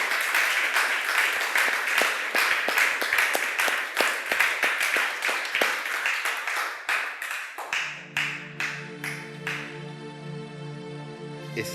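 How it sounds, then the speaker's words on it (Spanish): A church congregation applauds the Lord in loud, dense clapping that gradually thins into scattered claps. Sustained keyboard-like tones rise beneath them near the end. "Fuerte damos un aplauso al Señor"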